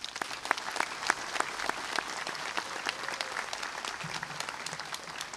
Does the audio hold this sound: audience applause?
yes